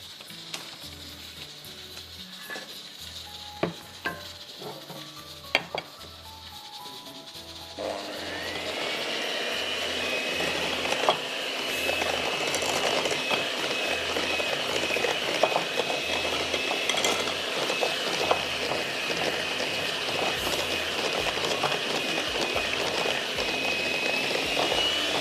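Cake batter for carrot bread being beaten, with a few light clinks and taps at first, then an electric mixer whirring steadily and loudly for the rest of the time.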